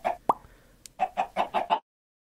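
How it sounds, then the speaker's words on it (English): Farmyard chicken in a live-action Minecraft-style sketch, giving a short series of about five or six clucks, each distinct and fairly near, after a brief plop-like pop at the start, with no talk over them. "Yo, chicken!"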